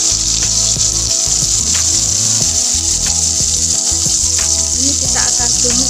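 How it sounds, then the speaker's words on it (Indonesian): Ground spice paste hitting hot oil for a kikil (beef tendon) sauté gives a steady, loud sizzle that runs the whole time, with tonal background music layered underneath. "Pertama kita panaskan dulu minyak secukupnya untuk menumis. Kemudian ini kita tuangkan bumbunya yang udah kita haluskan."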